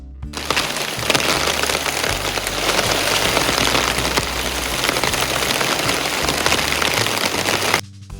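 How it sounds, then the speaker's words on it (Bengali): Steady rain falls outdoors, a dense, even hiss of drops on surfaces that runs loud and unbroken throughout, with a faint low hum underneath and no voices. "এই যে আকাশ থেকে জল পড়েছে, আর পুরো একদম পরিবেশটা এত সুন্দর হয়ে গেছে।"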